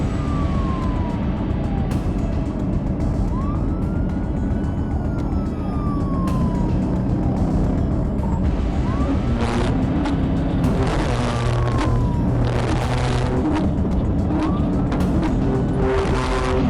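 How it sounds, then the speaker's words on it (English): A police car siren wails during a chase, rising and falling tones cutting over heavy roaring car engine and road noise, with sharp bursts and clatter toward the end; loud and continuous throughout. "Trooper Killian activates his lights and sirens while the chase intensifies."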